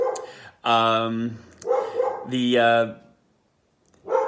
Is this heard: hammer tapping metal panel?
no